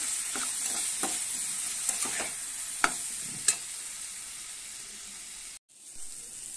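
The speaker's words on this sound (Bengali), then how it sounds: "এরপর কেটে রাখা লঙ্কাগুলো দিয়ে দেবো। দিয়ে একটু ভালো করে নাড়াচাড়া করে নেব।" Chopped green chillies stirred into potatoes frying in a pan with turmeric, a soft steady sizzle broken by several light scraping clicks of the spoon, fairly quiet and close.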